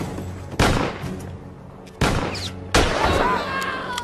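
Gunshots in an action movie: three sharp, loud blasts spaced about a second apart, each followed by a ringing tail, with faint background sounds between.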